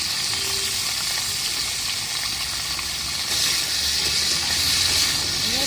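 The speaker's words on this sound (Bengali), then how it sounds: "ভালো করে মিশিয়ে একটু লাল লাল করে ভেজে নেব" Plantain pieces fry in a pan with a continuous loud sizzle and hiss that swells a little in the last couple of seconds, with faint stirring underneath.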